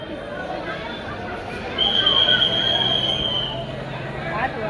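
A crowded passenger train rolls along with a steady rumble, and a high wheel squeal rises midway and holds for a couple of seconds. Faint voices murmur underneath.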